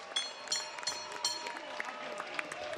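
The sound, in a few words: boxing crowd applauding both fighters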